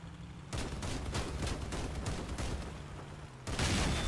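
Armed vehicles in Crossout trade dense gunfire, a rapid stream of loud, close shots that keeps up steadily for about three seconds, followed by a heavier burst of fire.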